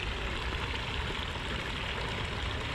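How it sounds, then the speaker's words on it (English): Water pours steadily at Arches National Park, a dense, even broadband rush of a large waterfall with no pauses, fairly close and continuous. "We found this massive waterfall over here."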